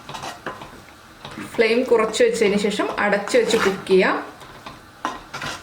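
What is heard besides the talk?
stirring boiling ridge gourd and prawn curry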